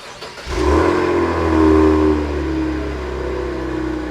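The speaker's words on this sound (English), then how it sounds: "So this is the mellow exhaust note." A Cadillac Blackwing's engine fires and revs through its mellow exhaust setting, a deep, loud, smooth burble swelling once, then easing into a steady idle drone.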